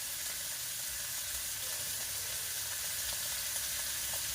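Pork belly frying in a pan with Thai red curry paste and fish sauce for an eggplant red curry, giving a steady close sizzle and hiss throughout with no pauses or talk.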